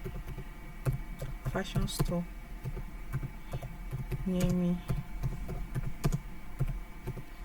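Rapid keystrokes tapped on a computer keyboard, a steady run of close clicks under continuous talking.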